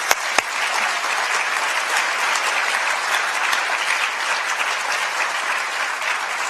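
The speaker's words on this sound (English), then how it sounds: "I think we should give them all a round of applause." Sustained applause from a dinner audience fills the room, dense and steady throughout with a couple of sharp claps near the start, no voices over it.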